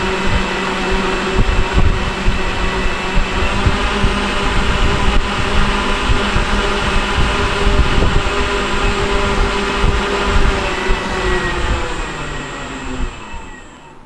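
Electric motor running on a dyno below half throttle, giving a loud, continuous, steady whine and hum with broadband roar that holds for many seconds before easing off slightly at the end.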